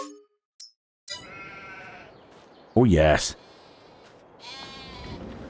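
A single loud sheep bleat in Farming Simulator 22 stands out briefly amid quieter game sounds and a short spoken remark.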